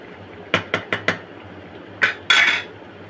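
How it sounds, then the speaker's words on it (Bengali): Gravy being stirred in a cooking pot, four quick metallic spoon clanks against the pot in a row, a pause, then two louder scraping clatters. "সেইভাবে একটু নেড়ে চেড়ে দেবো"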